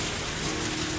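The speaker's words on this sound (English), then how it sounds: "As the rain came down, I maintained a cautious balance and inched my way towards the swamp." Steady rain falling in a Higurashi When They Cry visual novel scene, a dense, even hiss of drops on surfaces that stays loud and constant throughout, with no voices.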